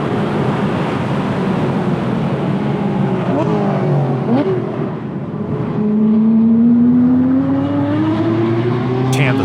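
A Honda Civic Type R and a GT3 race car run together on a track, giving a loud, steady engine drone with wind roar that dips briefly and then rises into a stronger rising engine tone.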